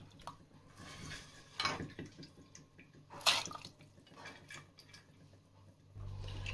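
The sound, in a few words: soaked lentils poured into water in a pressure cooker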